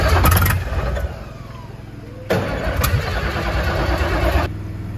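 An old Johnny Cash cabover truck, running for the first time in 27 years, cranks its engine and catches, the starter grinding before the diesel fires and settles into a loud, steady, close rumble with some revving.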